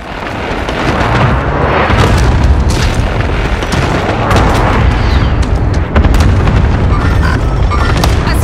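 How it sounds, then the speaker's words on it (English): Cluster strike explosions pound a battlefield in a Call of Duty-style shooter. They come as a loud, continuous barrage of heavy booms and sharp blasts, with overlapping detonations rolling one into the next. "Enemy cluster strike incoming."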